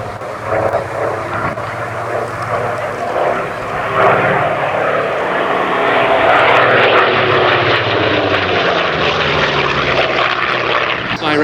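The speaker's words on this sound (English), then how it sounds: "Skyraider, the type starting out in Vietnam in the early 60s as a US Navy attack aircraft" A Douglas Skyraider propeller attack aircraft passes at the East Fortune airshow, its loud droning radial engine and propeller roar swelling, holding and then easing slightly, with wind buffeting the microphone.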